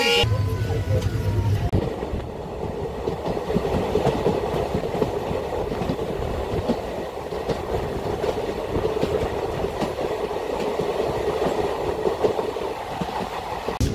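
Steady rumble of a passenger train in motion at Pamban railway station, with rhythmic clattering of wheels on rails, continuous and fairly loud throughout.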